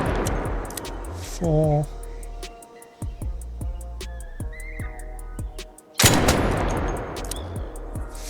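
Gunfire from an Anvil Splitter mod in Arc Raiders: repeated sharp, loud shots with echoing tails, spaced a second or two apart, while a man counts aloud over them.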